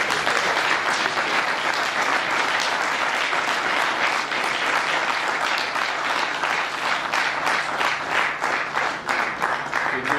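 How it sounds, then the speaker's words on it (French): Sustained, dense applause from a conference hall audience at an International Universal Health Coverage Day celebration, steady and full for about ten seconds with a faint murmur of voices beneath. "je voudrais que la salle applaudisse le docteur Kamba, conseiller."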